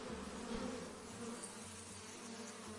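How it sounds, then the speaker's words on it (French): Bees hum softly around a hive hanging from a tree branch, a faint, continuous buzzing drone with no pauses and no voices. "Les abeilles bourdonnaient doucement."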